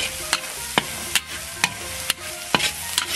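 Meat stir-fried with sweet bean sauce on a teppanyaki griddle sizzles continuously, broken by sharp, regular scrapes and clacks of a spatula against the metal, with no talking.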